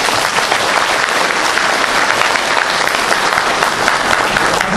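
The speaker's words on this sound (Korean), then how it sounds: "이분들한테 박수 한번 보내드립니다." Sustained, dense applause from a large lecture audience in Busan honouring elderly Korean War veterans, steady and loud throughout with no voices over it.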